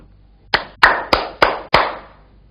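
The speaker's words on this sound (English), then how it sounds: "Clap your hands." Five sharp hand claps in a slow, even rhythm, each close and crisp with a short decay, standing alone against near silence.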